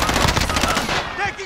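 Rapid machine-gun bursts ring out in a team shooter video game, loud and close, a quick run of shots fading within a second and a half.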